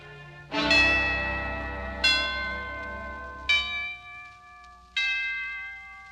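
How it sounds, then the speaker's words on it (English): Four separate strikes of deep, ringing chimes, each one bright at the onset and slowly fading, heard clearly with nothing else playing. "And the chimes."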